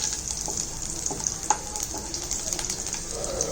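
Garlic sautéing in extra virgin olive oil as the pan is tossed, a steady close sizzle with small clicks and scrapes from the moving pan.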